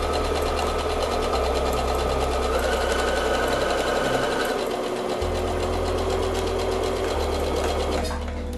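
A sewing machine runs continuously, stitching fabric onto batting and beginning with a short backstitch, its motor whirring and needle chattering at a steady, close, loud pace.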